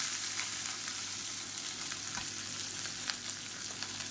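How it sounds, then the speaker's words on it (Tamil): Sliced onions frying in hot oil with fennel seeds and curry leaves, a steady soft sizzle with occasional light crackles and stirring taps, close and fairly quiet, no voices. "கருவேப்பிலை நீளமாக நறுக்குனா பெரிய வெங்காயம் சேர்த்துக்கலாம்"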